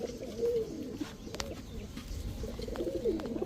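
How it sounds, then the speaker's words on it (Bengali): Young high-flyer Giribaz pigeons at a pigeon farm in Narayanganj, Bangladesh, coo in low, throaty bursts near the start and again toward the end, with a soft continuous hum of birds in the background. "নারায়ণগঞ্জের সবচেয়ে বড় কবুতর, একেবারে ইয়ং বার্ড"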